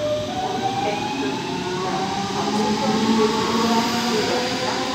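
A train at Langenhagen Mitte station runs steadily for the whole stretch, a continuous rumbling rail noise with faint squealing tones layered over it and no talk.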